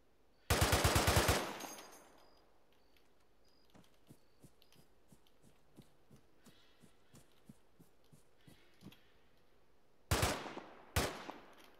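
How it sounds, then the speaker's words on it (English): Gunfire in ArmA 3, set in a WW2 battle: a loud, rapid machine-gun burst opens, then a steady train of fainter distant shots, and two more sharp close bursts near the end. "Who the hell keeps shooting me?"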